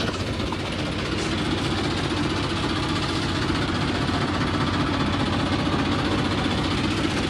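A tractor engine runs steadily nearby, a loud, constant diesel rumble with a fast knocking throb that keeps an even level throughout, with no voices over it.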